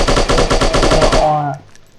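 Rapid automatic gunfire in the shooting game Striker, a loud close burst of evenly spaced shots lasting over a second before cutting off into a short fading tail.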